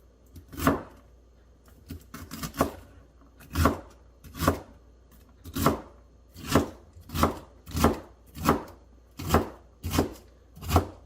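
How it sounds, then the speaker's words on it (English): A knife chops vegetables on a cutting board for stuffed bell peppers, a steady series of about a dozen crisp close thuds, evenly spaced after a few quicker irregular cuts, with no talking. "And just start chopping."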